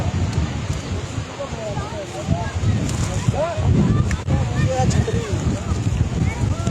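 Strong wind gusting across an outdoor cricket ground during a match at Rawat, buffeting the microphone in loud, uneven rumbles while someone talks over it.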